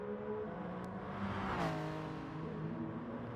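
A screaming Mazda race car engine in a racing video game holds a loud, sustained high whine that climbs and bends in pitch, swelling briefly midway as if sweeping close past, with other engine drone beneath.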